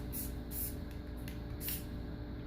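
A can of spray paint hisses in three short, sharp bursts against a steady background hum, each blast brief and close, with no voices.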